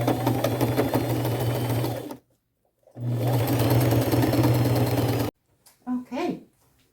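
A sewing machine runs in two long bursts of steady straight stitching, attaching pockets to an old robe being remade into a duster, with a short pause between runs and a brief voice at the end.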